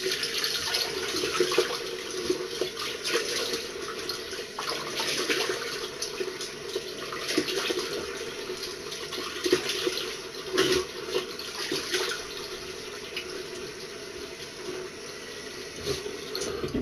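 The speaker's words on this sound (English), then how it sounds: "I'll wash my face." A sink tap runs steadily nearby while someone splashes water to wash their face, the flow rising and dipping with irregular splashes and no talking.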